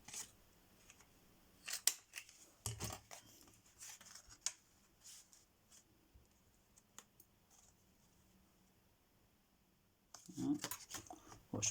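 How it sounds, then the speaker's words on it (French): Scissors snip through paper while an Easter card is being made, a scatter of quiet crisp cuts and clicks with pauses between, faint and close, ending in a denser burst of rustling snips. "Je vais découper le haut, comme ça."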